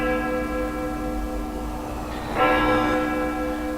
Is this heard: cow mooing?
no